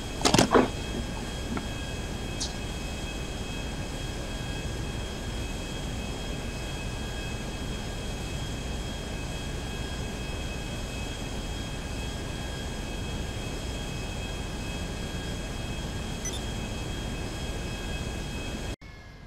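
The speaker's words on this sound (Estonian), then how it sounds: "Kuradi firma lennukiga." A company airplane's engine in Grand Theft Auto V, a steady, even drone holding at moderate level throughout after a brief clatter at the start, ending abruptly.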